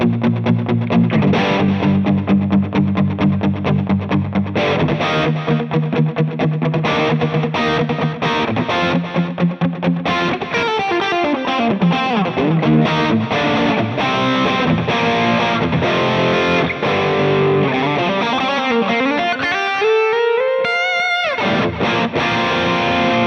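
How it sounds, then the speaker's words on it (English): Electric guitar played through a dotted-eighth delay effect controlled by a footswitch unit, distorted notes and chords with echoing repeats that form a galloping rhythm, loud and close, ending in a pitch sweep, with no talk. "the delay was set on dotted 8, so you can hear the galloping"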